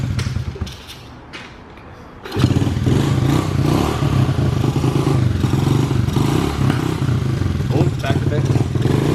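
An engine, with its air-fuel ratio freshly adjusted, cranks and starts after a couple of seconds of clatter, then settles into a loud, steady, slightly rough idle close up, with someone talking over it.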